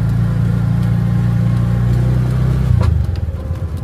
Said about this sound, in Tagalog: Ito na yung Sibalom Transport Terminal.